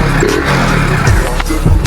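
A motorbike engine with an aftermarket filter revs and idles close by, a steady low rumble with a couple of throttle blips rising through the pitch, no talking over it.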